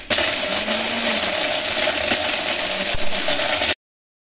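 A Hamilton Beach juicer mixer grinder whirs loudly and steadily at close range, a dense high-pitched motor whine with faint rattling, then cuts off abruptly.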